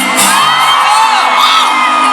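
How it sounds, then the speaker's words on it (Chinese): A crowd of about ten thousand at an outdoor concert in Pingtung's Millennium Park screams and cheers in a loud, continuous roar with high whoops, unbroken from start to finish. "现场大概有1万人呢，1万人的尖叫声长什么样子啊？"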